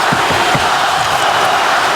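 Hockey arena crowd in overtime of a Penguins versus Red Wings NHL game, a loud sustained roar of cheering voices filling the whole stretch with a few deeper shouts near the start.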